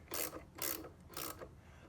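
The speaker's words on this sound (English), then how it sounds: "I'm going to use my ratchet side here." A ratchet wrench loosens the impeller nut on a DeWalt 735 planer, giving three short bursts of rapid clicking pawl ratcheting close up, with brief pauses between strokes.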